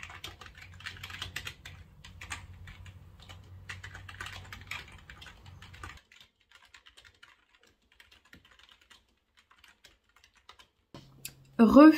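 Quick, irregular keystrokes on a computer keyboard while a book is being written, close and clear over a low hum for about six seconds, then near-silence with a few stray taps before a sudden louder noise at the end.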